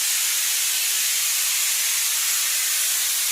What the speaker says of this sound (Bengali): এই দেখো কুকারে ডাল সেদ্ধ হচ্ছে